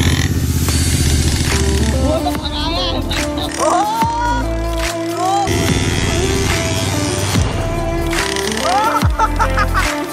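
A dirt bike engine revs in sharp bursts nearby, rising and falling repeatedly, with people talking over it.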